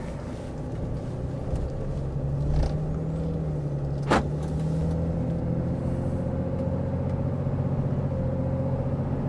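A 2018 RAM 2500 Lone Star pickup with a stock 6.7L Cummins diesel and 4WD on a test drive, a steady low engine drone from inside with a brief rise and a single sharp click partway through.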